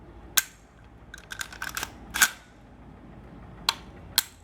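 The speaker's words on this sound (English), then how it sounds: "I'm gonna dry fire it so you know it's empty, and just to make sure it works." An empty Colt M16 / AR-15 rifle is dry fired, giving sharp, close metallic clicks of the trigger and action, with a cluster of lighter mechanical clatter between the separate snaps.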